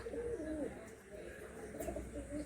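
Pigeons in a loft in Chandipur, Medinipur, giving soft rolling coos that repeat in short bursts, quiet and close.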